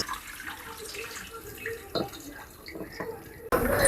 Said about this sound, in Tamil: இப்போ இதை வந்து நார்மல் வாட்டர் ஊற்றி கொஞ்சம் அலசி விடணும்